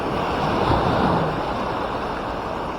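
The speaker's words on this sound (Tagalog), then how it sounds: "Sobrang lakas ng agos mga bishi, hindi kami makaliban." Strong floodwater current rushing in a flooded river, a steady broad wash of churning water with wind buffeting the microphone, loud and continuous with no talk.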